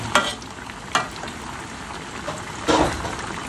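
Bakwan vegetable fritters frying in reused cooking oil, giving a steady close crackling sizzle with a few louder spatters and bursts of stirring.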